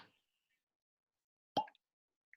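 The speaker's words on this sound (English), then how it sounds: "The FBP, we call that, the fresh bottle pop." A single sharp cork pop from a fresh bottle of Kilkerran 12 whisky, close and brief, followed by near silence and a faint tap at the end.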